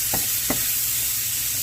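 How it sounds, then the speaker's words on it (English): Egg roll filling for Southwest egg rolls sautéing in a pan, a steady soft sizzle with two quick scraping stirs near the start. "Nice saute on it."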